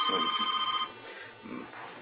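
A telephone bell rings close by in a short burst, then cuts off, followed by faint muffled sounds of someone nearby.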